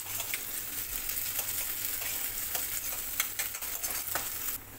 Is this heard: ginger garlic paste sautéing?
yes